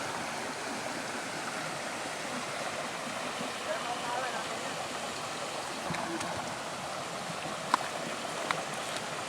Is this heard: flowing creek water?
yes